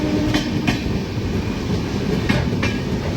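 Ahmedabad Gorakhpur Express running on rails, heard from inside: a steady loud rumble with rhythmic clickety-clack wheel knocks at regular intervals, close and continuous, no talking.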